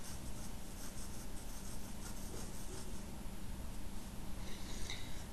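A pencil sketches a futuristic rifle in three-quarter view on paper, with steady close scratching and rubbing strokes running continuously throughout.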